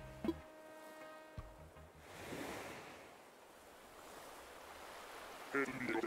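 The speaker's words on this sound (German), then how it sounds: "Hörst du die Geräusche der Welt, die Wellen brechen, während der Wind sie vor sich hertreibt?" Waves break gently on a shore in the video game Animal Crossing: New Horizons, with a soft continuous wash and wind. A few brief game tones sound at the start and near the end.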